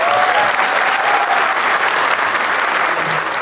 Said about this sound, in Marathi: एकदा टाळ्या वाजवा दोघांसाठी.